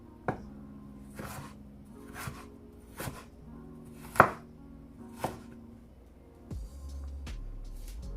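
A knife chops green scallion and ginger on a cutting board with seven evenly spaced, crisp close knocks, followed by a softer scrape.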